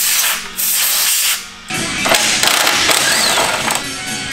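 A loud power tool whirs and grinds against a Can-Am X3 radiator in two stretches, with a brief drop in between, harsh and close.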